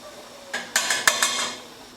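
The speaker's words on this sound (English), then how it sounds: "you need to keep making sure that you're stirring this" A utensil clinks and scrapes against a pan while thick gluten-free flour paste is stirred, giving a quick run of sharp metallic knocks in the middle of the clip over a quiet background.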